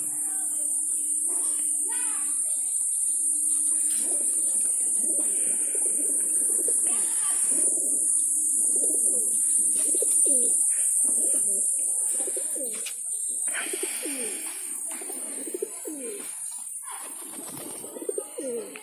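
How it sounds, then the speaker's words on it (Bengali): Pigeons cooing nearby in a series of soft, rhythmic throaty calls, repeating steadily over a constant high hiss in the background. "এই যে সব পায়রাগুলো।"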